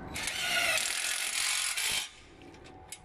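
A power driver spins screws into the holes of a greenhouse profile, giving a loud whirring, ratcheting burst for about two seconds that stops sharply, followed by quiet handling noises and a small click.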